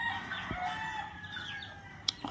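Chickens and chicks on a poultry farm in the Philippines, with faint rooster calls and clucking over low background noise and one sharp peep near the end.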